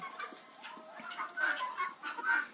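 Bantam chickens cluck and chatter inside a closed winter coop on a village farm, with many overlapping soft, fairly close calls and no talking.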